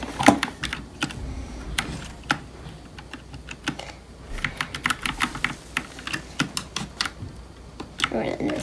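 Rapid, uneven clicking of computer keys being typed on close by, with bursts and short pauses, and faint background sound underneath.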